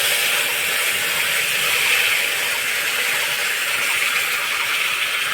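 Mustard seeds and curry leaves hit hot oil alongside dried red chillies while making upma, producing a steady, bright hissing sizzle that stays even and fairly loud across the whole stretch, with no talking.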